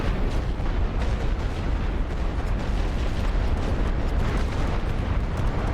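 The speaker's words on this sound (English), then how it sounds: "Let's hit these grenadiers with artillery" Artillery barrage falling on grenadiers in the World War One strategy game The Great War: Western Front, a continuous loud roar of overlapping shell blasts and rumbling explosions with no pauses, and no voices.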